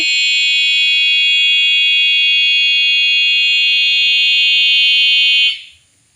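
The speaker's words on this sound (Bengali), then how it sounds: "চুর যতক্ষণ ডিভাইসের সামনে থাকবে ততক্ষণ কিন্তু অ্যালার্ম বাজতে থাকবে" A cattle anti-theft alarm blares a piercing, steady electronic siren tone, very loud and continuous, before cutting off sharply near the end with faint background noise underneath.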